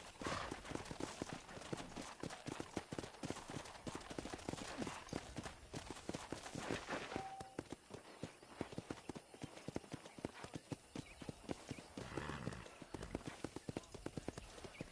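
Horse hooves clip-clop steadily on the ground in the video game Red Dead Redemption, a close, continuous walking rhythm with faint voices and ambient sound around it.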